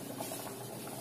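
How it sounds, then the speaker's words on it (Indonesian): Bubur Manado ingredients bubble in a covered pot in a faint, steady simmer, a soft continuous rush with no voices. "Ya, dia sudah mulai agak-agak mendidih."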